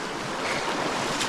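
River water swirling around someone wading barefoot across it outdoors, a steady close washing and splashing rush with wind noise on the microphone, no talking.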